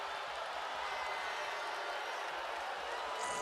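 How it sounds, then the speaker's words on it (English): Crowd at a Long Beach State vs Hawaii college volleyball match during a side switch, a dense, steady roar of cheering and clapping filling the arena throughout. "Look at Jackson Christ riling up the crowd as they switch sides"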